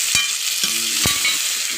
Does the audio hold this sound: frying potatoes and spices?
yes